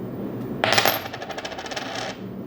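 Paper clips and a coin fall off a magnet in a classroom demonstration, a sudden clatter of small metal pieces followed by a ringing, rapidly rattling coin spinning down to rest over about a second and a half.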